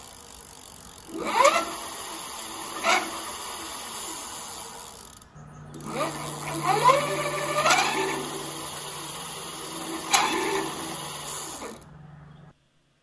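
An Ariel Rider X-class e-bike hub motor runs ungreased with a whirring hum broken by several sharp squeaks and clicks, and a steady motor drone enters partway through, fairly close and without talk.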